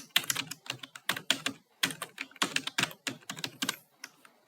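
Rapid typing on a computer keyboard while coding an Angular component, with dense, close, crisp keystrokes in uneven bursts and no voice.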